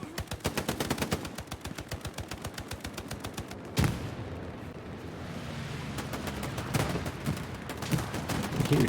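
Sustained rapid machine gun bursts in Hell Let Loose, a World War II battle game, loud and close with evenly spaced shots for several seconds, then a sharp blast and a rumbling, echoing firefight with scattered distant gunfire.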